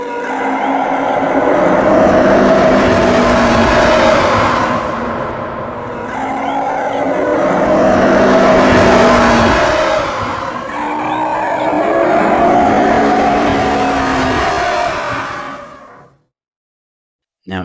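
Three loud roaring TIE fighter pass-bys sweep past one after another, each swelling and fading with a high whine, then cutting abruptly to silence.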